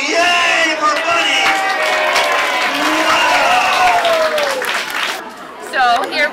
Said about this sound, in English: we're all going to applaud and go, yay for Buddy!